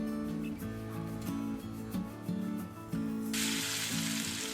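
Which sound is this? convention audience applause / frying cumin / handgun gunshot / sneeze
frying cumin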